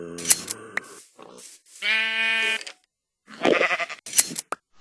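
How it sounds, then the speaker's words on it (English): Minecraft shears snipping near a bleating sheep: sharp short cutting clicks, one sustained bleat in the middle, then more snips, close and clear with no talking. "Shears also make sounds now."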